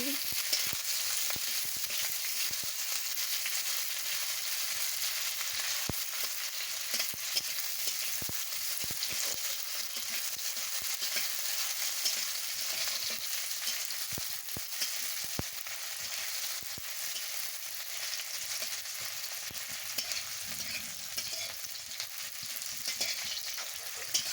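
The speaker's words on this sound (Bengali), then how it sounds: "পাঁচ ফোড়ন আর শুকনো লঙ্কাটা দিয়ে দিচ্ছি দিয়ে পেঁয়াজ কুচিটা দিয়ে দিচ্ছি দিয়ে ভালো করে ভেজে নিচ্ছি" Chopped onion sizzles and fries steadily in hot oil with panch phoron and dried red chilli, a continuous close crackle with faint stirring ticks and no voices.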